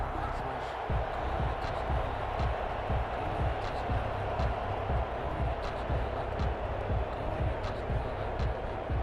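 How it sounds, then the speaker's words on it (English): A stadium crowd in an American football video game roars steadily in a dense wash, with rhythmic thumping and claps throughout and an announcer talking over it. "the crowd getting into it as we come up on a big third down"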